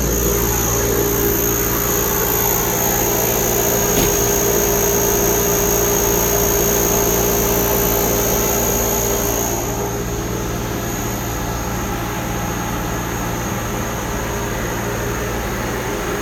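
An industrial dust collector system running in a powder room, a loud steady roar with a constant hum and hiss that drops slightly in level partway through, with no voices.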